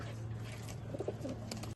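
Top-class racing pigeons in a winter-ready loft in Chinsurah, Hooghly, coo softly in low, repeated calls, with a faint steady hum running underneath and brief murmurs of voices in the background.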